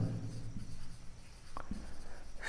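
A pen writes on paper during an English composition lesson, making soft, close scratching strokes over a low background hum, with no speech.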